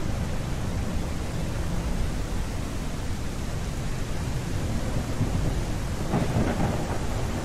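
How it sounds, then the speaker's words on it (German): A heavy thunderstorm in the video game Primal Earth: constant loud rain hiss with deep thunder rumbling beneath, swelling briefly near the end. "Okay, das Gewitter ist sehr, sehr atmosphärisch."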